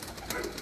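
A short, soft coo from a pigeon, close and clear, with no talking.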